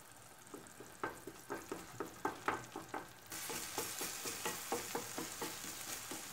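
Menemen of egg and vegetables stirred with a spoon in a frying pan: repeated soft spoon scrapes in a steady rhythm over sizzling, with the frying hiss growing louder partway through, no voices.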